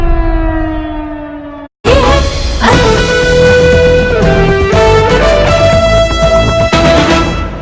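A loud civil defense siren wails in Udhampur, India, during a blackout amid drone attacks, with a tonal howl that cuts out briefly, then returns louder and holds a rising, sustained tone.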